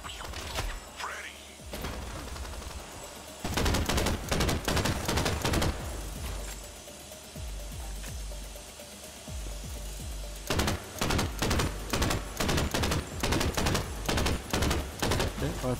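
Bursts of rapid gunfire in the video game Crime Boss: Rockay City, loud repeated volleys and thuds in clusters separated by brief lulls, with voices talking over parts of it.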